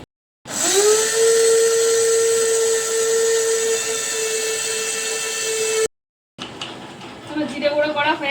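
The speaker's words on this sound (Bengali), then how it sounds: "এখন আমি এটা দিয়ে করি, বেশ কয়েকবার ধরে করতে হয় মশলা, কিন্তু বেশ ভালো গুঁড়ো হয়ে যায় তাড়াতাড়ি।" Bajaj mixer grinder pulverizing cumin seeds into powder, a loud, close high-pitched whine that spins up, runs steadily for several seconds, cuts out, then restarts in a rougher, rattling burst.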